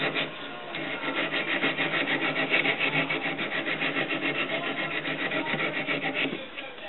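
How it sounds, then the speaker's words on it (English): Steady, continuous abrasive rubbing of an oiled sandpaper strip on metal while fluting a knife bolster, close and fairly loud, with a fast back-and-forth scratching rhythm and no talking. "I just spray a little oil on there to help lube it up while I'm sanding it."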